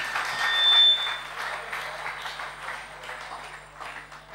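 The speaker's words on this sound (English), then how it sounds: "Give Jesus a clap and offer." A church congregation at a graduation ceremony claps together, the applause swelling early and then easing into a softer, scattered patter over a faint steady hum.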